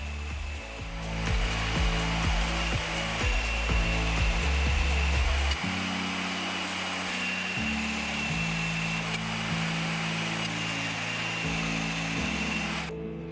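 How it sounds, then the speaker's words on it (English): A Millers Falls Model 9954 portable bandsaw cuts four wooden table legs, its steady motor whine running loud and close throughout, with several short bumps and shifts in pitch as each piece feeds through the blade. "Next, I cut the 4 legs of the table."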